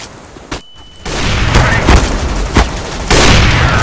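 A flashbang grenade tossed during a first-person shooter match: a sharp pop, a brief gap, then a loud sustained blast and ringing wash that stays harsh for several seconds amid gunfire-like bursts.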